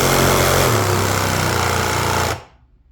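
A reciprocating saw with a cheap, dull test blade cuts through a wooden plank, giving a loud, steady, harsh buzzing that runs for over two seconds and then stops abruptly, leaving near silence.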